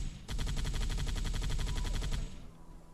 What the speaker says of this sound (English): Just to have some rounds firing off and whatnot.